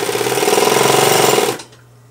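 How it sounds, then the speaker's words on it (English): A powerful sewing machine runs fast and loud with the pedal pressed, a steady dense mechanical rattle for about a second and a half before stopping abruptly, leaving a faint hum. "to make it go is just like you would normally with a regular sewing machine, step on the pedal"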